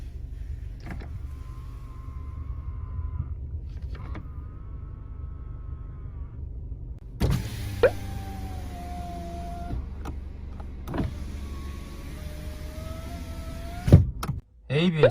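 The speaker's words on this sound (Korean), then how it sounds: "접이식 사이드 미러" The motorized folding side mirrors of a used new-model Kia Pride whir open and shut several times, each a short, steady electric hum up close inside the quiet cabin. Faint clicks and muffled voices come between the runs.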